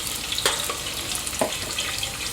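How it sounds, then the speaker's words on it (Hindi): Onions frying in a pan on an ordinary stovetop, a continuous close sizzle with a couple of sharper crackling bursts as they are stirred, no voices. "यहाँ पे हमारी प्याज थोड़ी सी ऐसी हो गई है, लाइट ब्राउन सी या कच्ची सी हो गई है"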